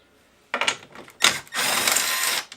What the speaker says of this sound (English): Now with our 13mm socket, we're going to remove these 2 bolts here.